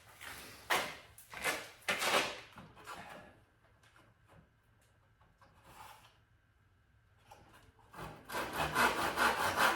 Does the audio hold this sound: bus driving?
no